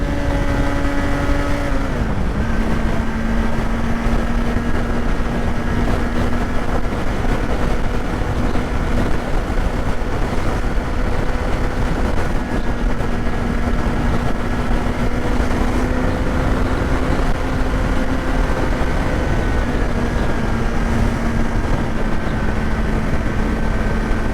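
A Kawasaki Z900 motorcycle pulling hard in second gear toward 130 km/h, its engine a loud, sustained drone with a steadily rising pitch under heavy wind noise, with a quick shift dip at the start.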